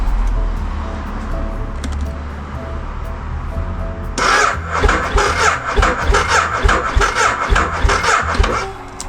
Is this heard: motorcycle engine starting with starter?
yes